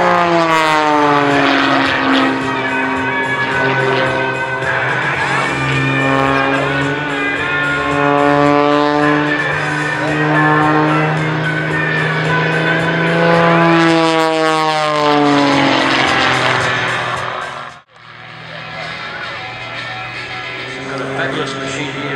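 A Fitz Super Stinker aerobatic propeller plane performs at an air show, its engine a loud, sustained drone that rises and falls in pitch through the climb, with a sudden brief dip near the end.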